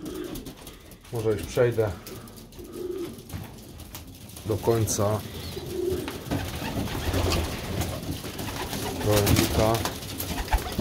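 Domestic pigeons coo in a home-built pigeon loft, soft repeated throaty calls that rise and fall under a voice talking nearby.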